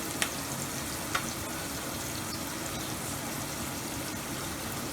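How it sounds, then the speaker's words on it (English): Steady, dense sizzling of uppittu ingredients frying in hot oil, a continuous crackling hiss with a couple of faint clicks, close and even. "When these bubbles come, fry it in golden brown"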